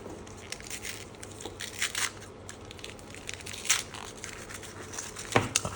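A chocolate bar's golden outer wrapper and silver foil are pulled open up close, giving irregular crinkles, crackles and sharp rustling bursts over several seconds, with no talking.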